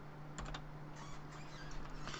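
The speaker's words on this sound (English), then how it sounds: "I was typing "Good Morning Sunshine"" Someone types quickly on a computer keyboard, a faint, steady patter of small clicks at close range, with no talking.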